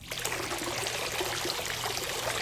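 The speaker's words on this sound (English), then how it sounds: "The last one here is your water fountain." A spa's water fountain runs steadily, a continuous trickling, splashing flow of water that stays even and close throughout with no voices over it.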